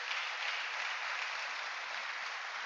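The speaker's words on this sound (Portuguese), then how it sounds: "Uma salva de palmas para o Senhor." Congregation clapping in a church, a dense, steady burst of applause holding at even loudness throughout with no voices over it.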